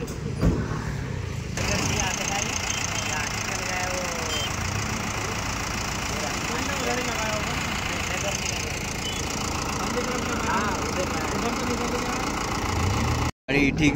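A car engine, just repaired, starts and then idles with a steady, close, low mechanical hum that continues unbroken for several seconds.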